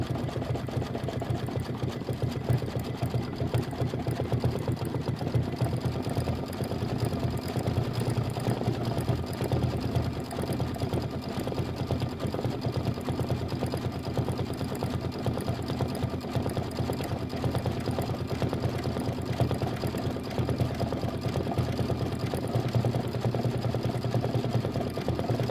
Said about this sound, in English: Stitch the large star placement lines